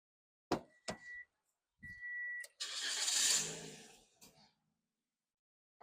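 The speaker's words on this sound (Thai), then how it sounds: "นี่นะครับสตาร์ทเครื่องแล้วนะครับ" A 2019 Toyota Yaris 1.2E engine cranks and catches with a loud whirring roar that fades within a couple of seconds, preceded by sharp clicks and a steady electronic tone.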